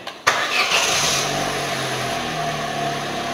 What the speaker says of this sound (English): So what we're going to do is we just start the car up.